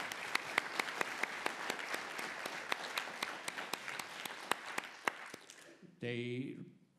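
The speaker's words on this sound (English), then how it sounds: "I want to give them a warm applause from your side" Conference audience applauding steadily for about six seconds, dense clapping with sharp individual claps standing out, then a voice cuts in at the end.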